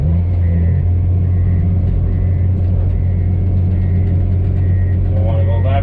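A Komatsu D51 PX22 bulldozer runs steadily up close while turning, a loud, continuous low diesel rumble that holds without pause, with a faint higher whine rising near the end.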